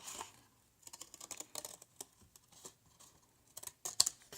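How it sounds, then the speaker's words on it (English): Scissors cutting out a painted paper shape for a spring card, giving a series of quick, close crisp snips and rustles in an otherwise quiet room. "I'm just going to cut it out. It's fairly easy because it's a simple shape, so just get the top part cut out"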